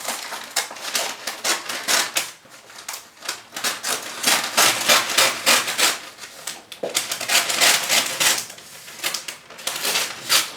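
Paper wrapping around an orchid being unboxed rustles and crinkles in rapid, crisp bursts, loud and close, with brief pauses between flurries of handling.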